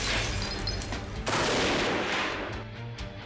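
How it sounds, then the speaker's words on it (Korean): Gunfire rings out during special forces counter-terror shooting training, a sharp burst of shots striking hard about a third of the way in amid a rough, noisy outdoor background, then fading as the reports trail off. "사격 훈련은 다양한 환경에서 이루어진다."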